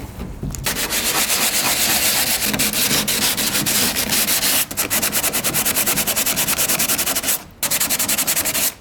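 Sandpaper scrubs a damaged fiberglass car bumper in rapid, loud back-and-forth strokes, close and continuous, broken by two brief pauses.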